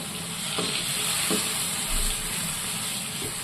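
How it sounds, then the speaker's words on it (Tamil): Squid pieces sauté with masala in a pan for a squid curry, giving a steady close sizzle with a few soft stirring scrapes and no talking. "கனவா மீன் சேர்த்து நல்லா மசாலா கூட ஒரு 2 to 3 நிமிஷத்துக்கு நல்லா வதக்கிடுவோம்"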